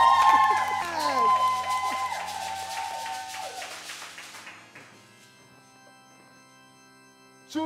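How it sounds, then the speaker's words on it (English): A crowd at a gathering welcoming a guest preacher cheers and shouts with some clapping, loud at first and then fading away over several seconds. "Please give a round of applause."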